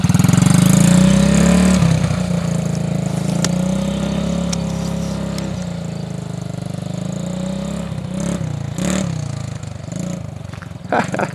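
A 125cc quad bike engine runs loud and close, revving higher at first then settling into a steady drone with small throttle changes; brief voices come in near the end.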